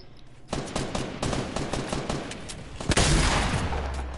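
Rapid video game gunfire rattles in dense automatic bursts, loud and close, with a heavier, brighter volley near the end and no talk over it.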